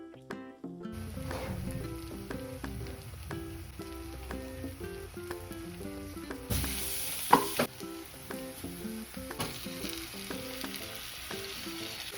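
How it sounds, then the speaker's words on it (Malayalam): Chicken with masala and yogurt stirred in a pot for a home-style chicken biriyani gives a steady close sizzle with soft repeated stirring strokes under continuous background music. "കുറച്ച് തൈര് വെച്ചിട്ട് നന്നായിട്ട് ഇളക്കുക."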